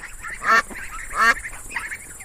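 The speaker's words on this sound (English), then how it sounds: "D for duck." A duck quacks three times in a steady rhythm, the calls fairly close and distinct over a soft, constant background hiss.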